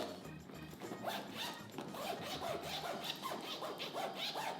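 Zipper on a laptop bag for a MacBook Air M2 being pulled open, a quiet rasping run of short zips repeated close up, with no voices.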